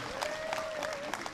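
A concert audience claps at a 2017 hope charity concert, steady, moderately faint, with a sustained tonal note running under the clapping.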